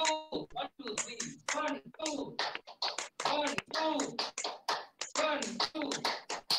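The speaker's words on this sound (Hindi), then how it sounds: "अब दोनों हाथ को ताली बजाइए" Hand clapping in an online yoga class: sharp, rhythmic claps fall in quick pairs and triplets, close and fairly loud, under an instructor's continuous counting voice.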